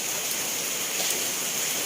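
Steady rain falls outdoors at a rice-field edge where wild mushrooms are being gathered, a dense even hiss with no breaks throughout, fairly loud and close, no voices.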